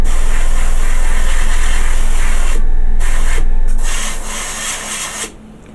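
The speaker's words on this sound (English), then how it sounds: "I know I'm going to have to do some sanding on this" Steady scratchy rasping of sandpaper worked back and forth over a plastic Star Trek Enterprise model part, continuous and close, then tapering off near the end.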